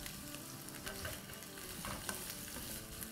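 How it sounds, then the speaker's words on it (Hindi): Potato pieces fry in a pan with no spices, giving a steady oily sizzle with scraping and stirring sounds close by. "तो इसको हमें बिना किसी मसाले डाले हुए फ्राई करना है।"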